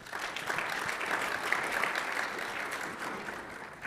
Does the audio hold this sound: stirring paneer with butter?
no